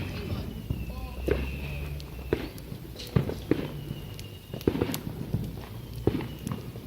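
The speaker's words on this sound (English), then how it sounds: "More firework bombs." Bonfire night fireworks bang and crackle in scattered bursts outdoors, a few sharper pops standing out over steady background noise while people talk nearby.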